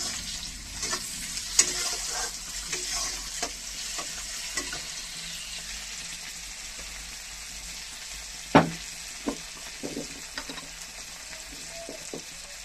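Chopped onion, tomato and green chili fry in oil in a pan, with a steady sizzle and occasional stirring scrapes and clinks, nearby and without talk.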